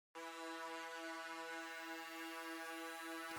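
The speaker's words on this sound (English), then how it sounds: "I just put 80s on Splice and looked at the presets that they had for Serum." A bright 1980s-style Serum synthesizer preset holds one sustained, harmonically rich chord, entering sharply and ringing steadily at full level with a faint low drone beneath, then cutting off at the end.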